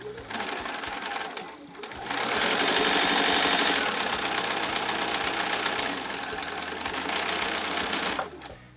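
A sewing machine stitches a flying geese quilt block with a close, continuous mechanical whir and rapid needle clatter lasting several seconds, its speed surging and easing slightly before stopping.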